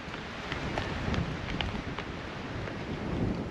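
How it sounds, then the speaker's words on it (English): Strong wind blows outdoors on a ranch during a bow hunt, a dense, steady roar buffeting the microphone with gusty surges, loud and close, and nothing else stands out. "It is so windy out here."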